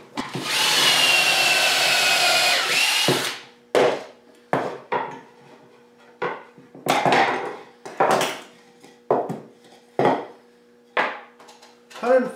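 A power drill bores pocket holes into wooden dividers: one long whining run, then a series of short, sharp bursts separated by pauses, close and loud with no talking.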